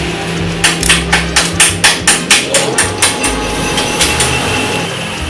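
An M18x1.5 thread is hand-tapped into a connector hole drilled on a lathe for a homemade PCP air rifle tank made from a bottle, producing a close series of about a dozen sharp, evenly spaced metallic clicks.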